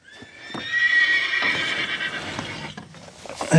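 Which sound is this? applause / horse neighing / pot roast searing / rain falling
horse neighing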